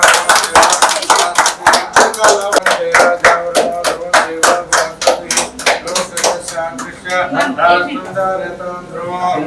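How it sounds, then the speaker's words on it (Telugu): Hands clapping at the opening ceremony of a healthcare clinic in Guntur, a group beating out a steady rhythmic clap, loud and close, that loosens into scattered claps toward the end while chanting continues underneath. "చప్పట్లు కొట్టండి"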